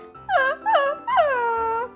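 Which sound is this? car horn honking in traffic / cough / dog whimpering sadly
dog whimpering sadly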